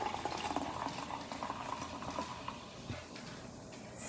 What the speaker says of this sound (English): Pour in the seltzer.